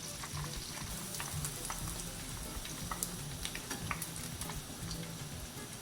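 Keto chicken tenders fry in hot oil in a pan, giving a steady close sizzle with scattered pops and crackles throughout, and no talk.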